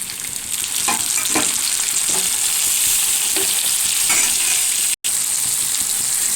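Tomatoes dropped into hot oil with onion and garlic for a bitter gourd kuzhambu, giving a loud, constant sizzle with a few stirring scrapes and a brief gap.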